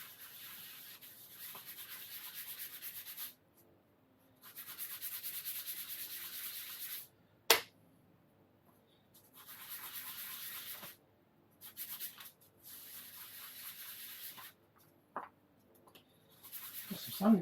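Wood being hand sanded with sandpaper during a final finish, rhythmic bursts of gritty rubbing strokes broken by short pauses and a few knocks, close and fairly quiet.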